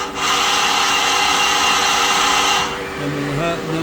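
A Citizen L20 CNC Swiss lathe runs its rotary tools, giving a loud, steady grinding whir for about two and a half seconds that then drops to a quieter mechanical hum with faint tonal whines.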